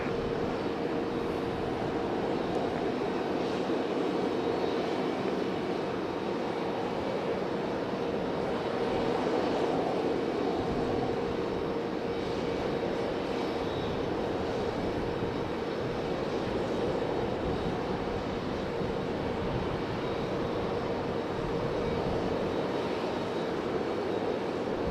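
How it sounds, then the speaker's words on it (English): A FedEx ATR turboprop arriving from New Bern at Raleigh-Durham drones as a steady, moderately distant engine hum with a faint propeller tone, mixed with wind noise and no talking. "I knew it wasn't going to be too long for our FedEx ATR coming in from New Bern."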